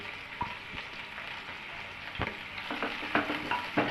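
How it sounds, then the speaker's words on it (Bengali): Chopped onions sizzle and crackle steadily in hot oil, with occasional sharper pops and the scrape of stirring, close and fairly loud. "তেল গরম হয়ে গেছে, এর মধ্যে দিয়ে দিলাম পেঁয়াজ কুচি।"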